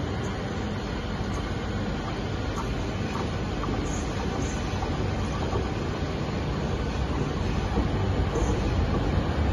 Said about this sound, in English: here comes a terminating service. A terminating intercity service.